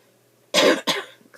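A single person's cough, loud and close, in two quick harsh bursts in an otherwise quiet room.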